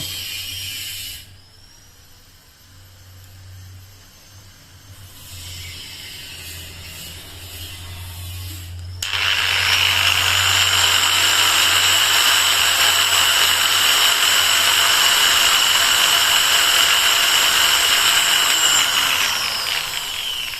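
A Total TG109125565 variable-speed angle grinder runs at speed setting 3, starting as a low hum and rising into a loud, steady high-pitched whine that holds for the rest of the stretch.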